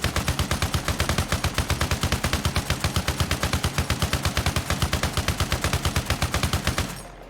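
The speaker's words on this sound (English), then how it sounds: "Alright, so we emptied the 50 cal tripod's ammo." A .50 cal tripod machine gun in Arma Reforger firing at a vehicle: a long, loud, unbroken string of heavy evenly spaced shots at a steady rapid rhythm, stopping abruptly near the end.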